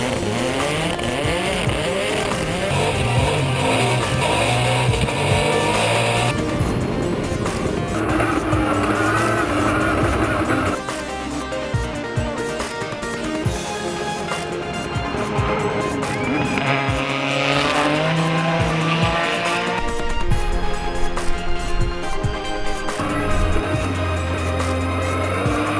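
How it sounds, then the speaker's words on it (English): Pikes Peak hill-climb race car with a 3100cc twin-turbo Suzuki DOHC V6 making 910 horsepower, roaring hard at high revs with shifts and throttle changes, loud and continuous throughout. "The engine is a 3100cc Suzuki dual overhead cam, 4-valve V6 with twin turbochargers"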